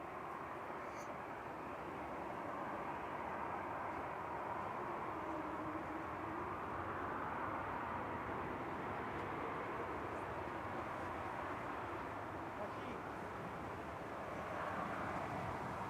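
A Swiss Embraer E195-E2, operated by Helvetic, landing at Manchester Airport: a broad, steady rushing engine roar holds evenly at moderate distance, with no clear voices.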